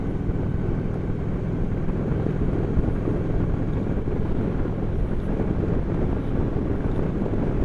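A Honda VT750 Shadow Spirit motorcycle out on a scenic country ride, heard as a steady, dense low engine drone blended with heavy wind buffeting on the microphone, continuous and unchanging throughout with no talk.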